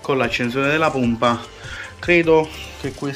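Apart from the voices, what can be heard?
No distinct noise like a dog, phone or traffic.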